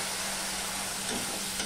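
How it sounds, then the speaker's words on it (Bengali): Spice masala of coriander, salt, chilli powder and turmeric with a splash of water stir-fries in a pan, a steady close sizzle with soft scraping stirs, no voices. "মশলাটা এবার কষিয়ে নেব।"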